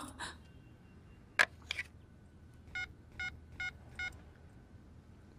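Four short, evenly spaced touch-tone beeps sound as a phone number is dialed, preceded by a couple of soft clicks in a quiet room.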